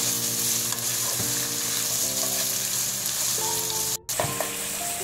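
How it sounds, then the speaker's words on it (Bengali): Bell pepper and capsicum fry in a hot pan with a steady, loud sizzle. A spoon scrapes and stirs the pieces in repeated strokes, with one brief pause near the end. "বেল পেপার আর ক্যাপসিকাম। দিয়ে এখন এগুলো আমি একটু ভাজা ভাজা করে নেব।"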